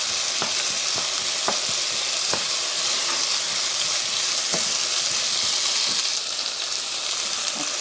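Beetroot and shrimp sautéing in a hot pan, a constant bright sizzle of frying with a scattering of sharp clicks and scrapes from stirring, alone and without voices.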